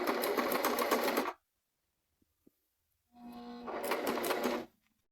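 A sewing machine runs a side seam on a home-sewn dress in two close, distinct bursts of rapid stitching, separated by a near-silent pause with a couple of small clicks.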